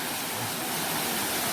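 Mandayao Waterfall in Negros Occidental, Philippines roars as a dense, steady wash of falling water, loud and close with no break.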